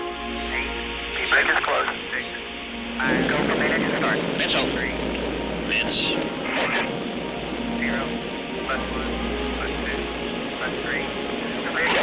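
Space shuttle Columbia lifting off in 1982: a broad, steady rocket roar surges in about three seconds in and rumbles on continuously beneath radio-style voices.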